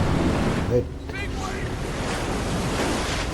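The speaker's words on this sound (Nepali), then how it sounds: "यस्तो छाल आएपछि त यार कहाँ बाँच्नु हौ" Ocean waves surge and crash in the video game Uncharted 3, with a constant wind-blown roar of surf and a brief voice partly over it near the start.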